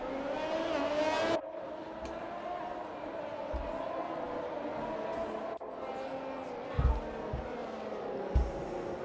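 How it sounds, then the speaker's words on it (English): F1 2021 race cars on a formation lap at Singapore in the video game, a continuous layered engine whine at moderate level with a couple of abrupt cuts and a few low thumps, speech faintly present. "the formation lap is underway"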